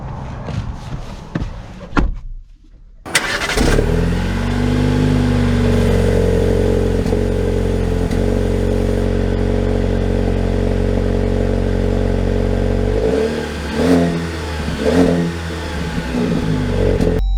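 A 2023 Jeep Compass Limited Elite: a door slam and the engine starting, then a steady close idle hum that holds for several seconds before rising and falling as the SUV begins to drive.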